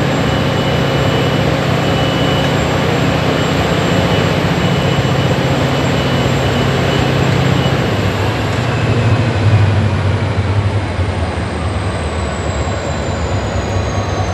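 A Pakistan Railways HGMU30 EMD diesel locomotive gives a loud, steady mechanical rumble with a high whine above it. The rumble holds close and constant for about ten seconds, then eases slightly near the end.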